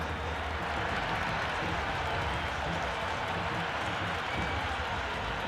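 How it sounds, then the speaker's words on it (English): A stadium crowd roars steadily at a T20 cricket match between Pakistan and England in the video game Cricket 26, a dense, continuous wash of cheering heard from within the crowd, moderately loud and unbroken throughout. "Will you listen to that crowd? They are loving this."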